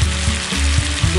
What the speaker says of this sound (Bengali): এখন আমি এর মধ্যে জল দিয়ে দেবো